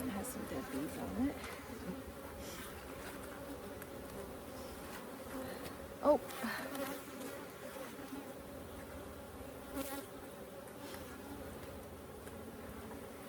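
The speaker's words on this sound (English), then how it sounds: "I've got a bee here that tried to sting" Honey bees buzz steadily around an open hive during an inspection, a faint continuous drone with one brief spoken exclamation.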